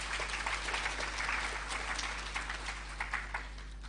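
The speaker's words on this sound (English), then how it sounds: "Please can we offer her another round of applause." An audience at a Guru Purnima evening function claps after a dance performance, a fairly faint, dense patter of many hands that stays steady throughout.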